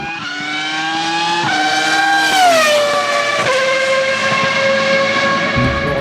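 A voice imitates a race car for an amateur lap of the Wall of Champions chicane in Montreal, one long continuous engine whine rising and falling in pitch as if shifting gears, loud and close, with no other talk.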